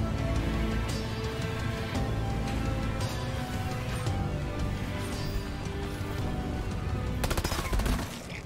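Rapid sustained gunfire in the video game Deep Rock Galactic, dense continuous automatic shots with a sharper burst of crackling near the end.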